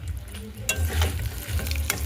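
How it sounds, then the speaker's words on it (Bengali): Pointed gourd (potol) frying in a pan, a steady close sizzle of oil with occasional sharp crackles and spatula stirring, running continuously without talk. "এদিকে আমার পটল ভাজা হচ্ছে"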